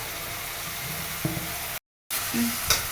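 Mint, coriander and curry leaves sauté in a hot pan with a steady close sizzle and occasional stirring clinks, broken by a brief moment of silence.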